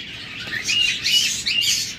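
A pair of doves at a bird shop calls in repeated bursts of high squawking chirps, close by, with no voices.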